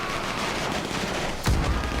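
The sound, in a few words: gunfire in GTA 5 video game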